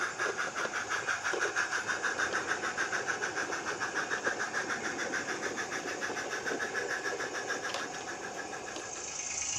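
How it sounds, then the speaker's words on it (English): A pickup goods train pulls away on a light railway with a steady, rhythmic mechanical chuffing pulse that repeats evenly and fades slightly toward the end, heard at moderate distance without any voices. "the pickup goods departs"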